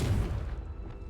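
A Confringo blasting spell in the Hogwarts Legacy video game lands as a single deep, heavy boom that rumbles and fades within a second.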